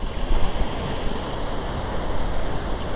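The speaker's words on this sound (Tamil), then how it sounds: "அம்மா தண்ணி எவ்வளோ வேகமாக போகுது பாருங்க." Fast-flowing river water at a waterfall near a tunnel in Valparai, a loud continuous rushing roar of broadband noise filling the whole stretch with no voices.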